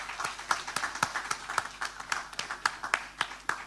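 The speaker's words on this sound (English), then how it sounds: "Can we give them a round of applause?" Audience applause at a debate: a small crowd's clapping with distinct, evenly spaced claps, moderately loud and fairly close, without talk.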